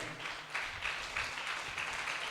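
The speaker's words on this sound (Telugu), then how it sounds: "ఎంతమంది సంతోషంగా ఉన్నారో ఒకసారి అందరం చప్పట్లు కొట్టి దేవుని మహిమపరుస్తాం" A church congregation claps together during an Easter service, producing steady, dense applause with a faint rhythmic pulse that carries throughout.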